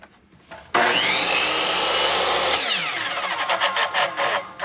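A chop saw cuts through a zero clearance insert: the blade suddenly roars into the material, holds a loud, close, harsh rasping whine for about two seconds, then winds down with fluttering pulses as the motor slows.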